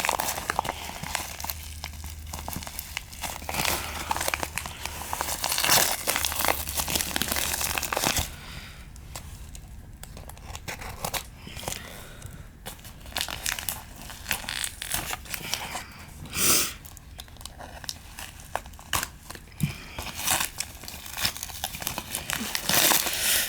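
Crinkly plastic packaging is unwrapped from around a trading card held in a magnet case, loud sustained crumpling and tearing close up for about eight seconds, then quieter intermittent rustles and crackles with a few louder bursts.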